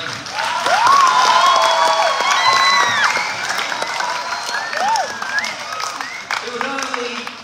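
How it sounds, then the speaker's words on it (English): Crowd at a Year 12 graduation ceremony applauds and cheers the class of 2023, sustained clapping with high shouts and whoops rising over it, loud at first and easing slightly toward the end. "A round of applause and congratulations."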